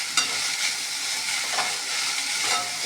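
Chopped spring onions sautéing in a pan, a dense, steady close-up sizzle with soft stirring scrapes and a few brief spatula taps, no voices.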